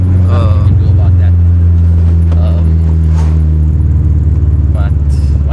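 Turbocharged Honda B20 engine heard from inside the car during a ride-along, a loud steady hollow drone with shifting pitch that drops partway through, and a person talking over it.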